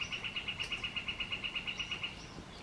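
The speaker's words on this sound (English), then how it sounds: "Did you hear that bird?" A bird near backyard bird feeders chirps in a rapid, steady run of about fifteen evenly spaced high notes, close and clear, trailing off near the end over quiet outdoor background without talk.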